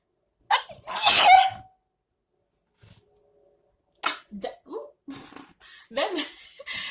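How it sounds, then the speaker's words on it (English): A single sharp sneeze bursts out near the start, followed by silence and then a few short bursts of nearby speech. "I just sneeze."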